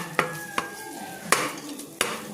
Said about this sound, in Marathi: खवा टाकून पुन्हा हलवून घेते